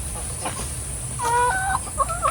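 Heritage chickens, including Rhode Island hens, clucking on a provincial poultry farm, a few close, rising and falling calls in the second half over a steady low background hum.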